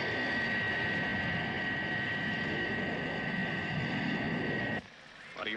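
A steady, loud roar of Thunderbird 2 in flight at altitude, a sound effect from Thunderbirds Are Go, drones evenly with a high whine on top, then drops off sharply near the end.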